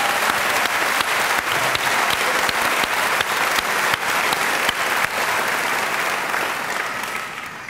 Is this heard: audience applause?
yes